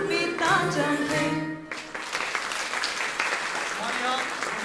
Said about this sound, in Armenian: եկեք կրկին անգամ բարձր ծափահարենք մեր սիրելի աշակերտներին